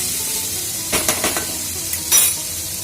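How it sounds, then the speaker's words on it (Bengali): Okra frying in a pan with salt and turmeric gives a steady close sizzle, broken by a few quick scraping stirs of the spatula. "এই নুন আর হলুদ গুঁড়ো দিয়ে ভেন্ডিগুলো ভাজবো"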